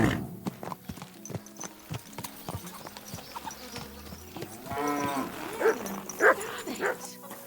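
Horse hooves clip-clop in a steady rhythm, with a dog barking and a horse whinnying nearby, in the video game Kingdom Come: Deliverance 2.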